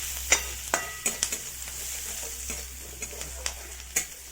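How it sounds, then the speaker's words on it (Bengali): Chopped onions fry in hot oil with a soft, steady sizzle under a low hum, punctuated by several crisp spatula taps and scrapes against the pan. "ওই তেলের মধ্যে দেখো পেঁয়াজ কুচিগুলো দিয়ে দিলাম"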